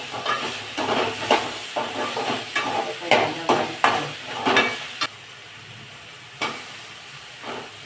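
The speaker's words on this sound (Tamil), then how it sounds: "வெண்டைக்காய் போட்டுக்கணும் வெண்டைக்காய் நல்லா வதக்கி" Okra being sautéed with tomato in a pan, stirred in a run of scraping, sizzling strokes close by, then a quieter stretch with one last stir near the end.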